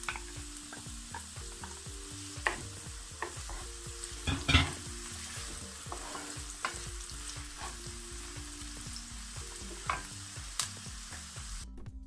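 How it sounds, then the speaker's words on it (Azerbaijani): Chopped onions fry in a pan of oil and butter, giving a steady soft sizzle broken by occasional scrapes and knocks of stirring, close and continuous with no talking. "Doğradığım soğanı əlavə edib qovururam."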